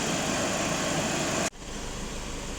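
Skoda Octavia A7 2.0 TDI diesel engine idling with a steady hum, which cuts sharply at mid-clip and resumes slightly quieter; no talk is heard.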